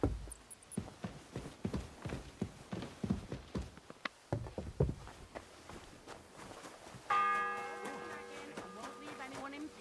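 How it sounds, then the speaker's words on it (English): Castle church bell tolling the seventh bell in Kingdom Come Deliverance 2, entering late as a sustained ringing over earlier footsteps and hoofbeats. "The seventh bell."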